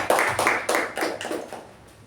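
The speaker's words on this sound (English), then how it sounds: "Let's give a round of applause to our secretary in the family." Clapping at a club meeting for the secretary: a short run of about six sharp, evenly spaced claps that fade toward the end.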